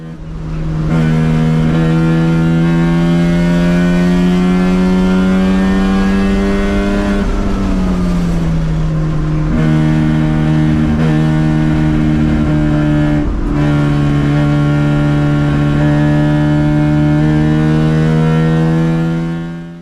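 A Mazda RX-7 rotary engine runs on a race track at Heartland Motorsports Park, with a carburetor fault at part throttle; a loud, steady harmonic drone holds, drops in pitch briefly, then climbs again, close and continuous with no talk.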